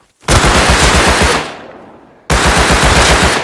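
Rapid automatic gunfire in the console version of the survival game Rust, two loud sustained bursts split by a short fading pause, close and dominating, with no talking.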